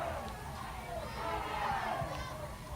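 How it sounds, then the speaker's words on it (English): Crowd at an Oklahoma Sooners softball home game against Oklahoma State, a steady broad roar of fans cheering and shouting in the stands, continuous and fairly distant with no single voice standing out. "You hear the Sooner crowd urging on"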